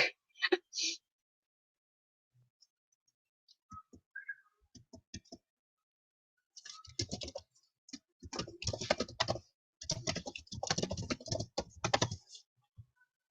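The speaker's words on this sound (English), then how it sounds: "don't mind the typing noises" Bursts of rapid computer keyboard typing, close and clicky, come in clusters with pauses between, alongside a few scattered clicks and brief sounds.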